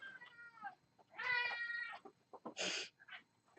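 A pet cat meows unhappily indoors during a tabletop game session, a few separate drawn-out and clipped meows with short pauses between them, close and fairly quiet.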